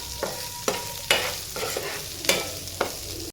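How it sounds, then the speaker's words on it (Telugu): A spatula scrapes and stirs onions sautéing in a hot pan, with several distinct strokes over a steady background sizzle. "ఉల్లిపాయలు కూడా కాస్త మగ్గితే సరిపోతుందండి"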